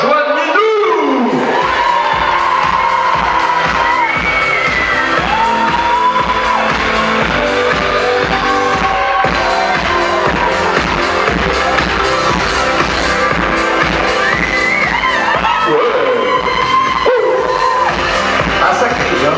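A large crowd shouts, whoops and cheers continuously at an outdoor awards ceremony for a women's desert rally in Essaouira, loud and dense with music and amplified voices mixed in.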